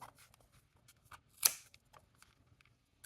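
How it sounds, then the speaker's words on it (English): Quiet snipping of scissors cutting yarn, with one sharper, louder cut in the middle and soft rustling around it, close by. "Your scissors are going inside here and just cutting."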